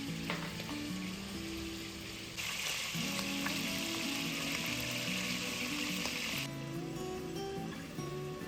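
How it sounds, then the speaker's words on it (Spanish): Pork sizzling in a casserole with a splash of olive oil, a steady, close, rain-like frying hiss that runs throughout with faint clinks from the pan. "La pongo directamente en la cazuela con un chorrito de aceite de oliva y mientras se va cocinando terminará de descongelarse poco a poco."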